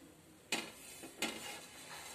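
Peanuts, dried red chillies, curry leaves, coriander seeds and cumin dry-roasting in a pan, with two soft scraping stirs over a faint, steady background hiss, close and quiet.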